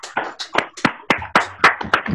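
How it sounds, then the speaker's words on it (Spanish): Scattered claps from a small group heard over open microphones on an online call, arriving as a dozen separate uneven bursts in an irregular rhythm with no talking. "si podemos abrir los micrófonos, Seba, para escuchar los aplausos del resto del grupo"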